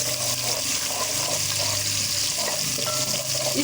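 Cumin, chopped garlic and green chili frying in a pan give a steady, close sizzle with a bright hiss and occasional scraping stirs, continuous throughout and without voices.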